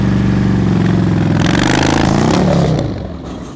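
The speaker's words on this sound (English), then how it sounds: "Just listen to his engine, you're going to hear it." Motorcycle engine at slow riding speed during a practice session, running loud and steady with a rough revving texture, then easing off and fading slightly toward the end; no talking.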